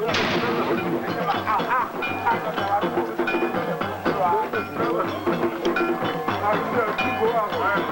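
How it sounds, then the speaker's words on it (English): Decorated last-century muzzle loaders loaded with gunpowder blanks boom repeatedly through a Dogon ritual battle, with a steady din of shouting warriors and crowd voices throughout. "Decorated muzzle loaders from the last century are primed with gunpowder, but not bullets, providing a noisy but harmless ritual battle."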